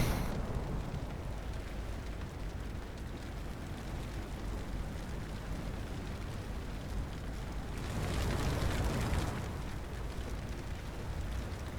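A steady roar of gunfire and rumbling in a naval video game around the battleship Arizona, swelling into a louder, broad blast of a ship explosion near the end before settling back.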